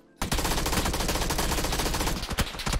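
A PP Bison submachine gun fires in PUBG, a sustained rapid automatic burst after a short silent start, loud and close, with a brief break near the end before the fire resumes.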